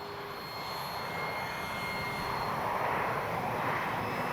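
An FMS 1800mm Ranger RC model airplane's motor whines steadily in the distance on its maiden flight, pitch holding then rising slightly after takeoff, with wind noise in the background.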